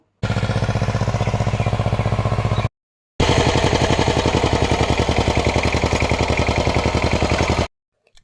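Hand tractor engine chugging in a ridge gourd field, a close, steady pulsing putter that runs for a couple of seconds, cuts out briefly, then resumes for several more seconds before stopping.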